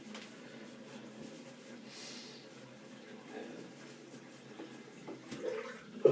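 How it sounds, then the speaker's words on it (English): Water drains from a bathroom sink during a wet shave, a faint, low gurgling wash that stays quiet and steady before swelling slightly at the very end. "Now I'm going to drain some water."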